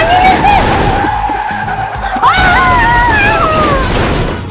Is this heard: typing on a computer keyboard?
no